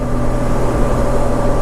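A 1500cc Honda Goldwing motorcycle cruising in overdrive, its engine giving a steady, loud, even drone with road and wind rumble throughout, no gaps.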